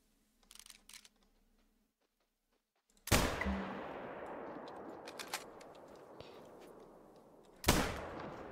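Two loud gunshot blasts from a gun in the video game The Coffin of Andy and Leyley ring out a few seconds apart, the first followed by a long decaying tail, after faint clicks at the start.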